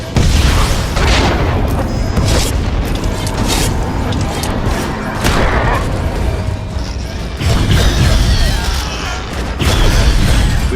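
Missile explosions in the Star Wars: The Old Republic video game, a loud continuous roar of booms and crashing blasts, close and heavy, with occasional voices under the din.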